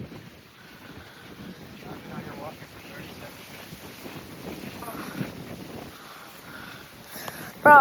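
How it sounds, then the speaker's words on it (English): Wind blowing outdoors during a lightning storm in Phoenix, a steady rushing buffet across the mic with low rumbling gusts, with a brief louder burst near the end. "It's windy out here."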